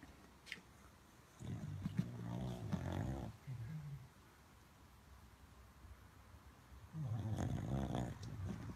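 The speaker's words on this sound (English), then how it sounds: "That's my dog sleeping." A dog snores while asleep indoors early in the morning: two slow, low rumbling breaths separated by a quiet pause, faint and close.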